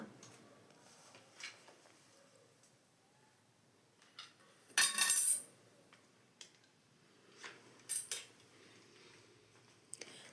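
A spoon clinks now and then against a bowl while eggless cake batter is mixed with flour, the taps sparse and fairly close, with one louder scraping burst in the middle and otherwise near-quiet pauses.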